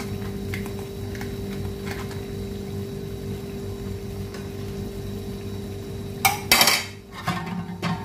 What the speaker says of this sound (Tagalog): Haluin natin unti para yung sauce makakakuan.